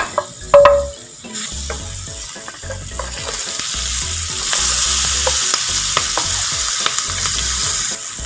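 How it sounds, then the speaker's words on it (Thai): Butter melting in a hot pan during stir-frying for Japanese curry rice: a loud, continuous sizzle with rhythmic scraping of a spatula against the pan, one sharp clank near the start, heard close up. "แล้วก็ผัดทำเอาให้เนยมันละลายก่อน"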